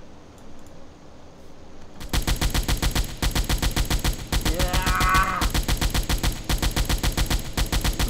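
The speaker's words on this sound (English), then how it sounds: "this time, I'm going to take control of the AA gun myself" An anti-aircraft gun fires in the submarine game Silent Hunter IV: loud, rapid, evenly spaced shots in sustained bursts with brief pauses, following a quieter ambient stretch.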